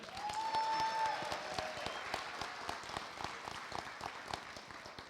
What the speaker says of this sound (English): Can we have one more round of applause for Jesus and Ariana?